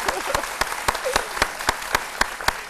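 An audience claps in a steady, even rhythm during a live French-language radio or stage show, with sharp, evenly spaced hand claps ringing out over a low background murmur.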